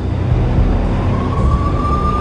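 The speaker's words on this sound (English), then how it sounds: "The NYPD was closing in. I could hear the sirens. Their wail was a crescendo." A wailing police siren from NYPD cars in the Max Payne game rises steadily over a dense, loud background of city noise and engine rumble, with no talking.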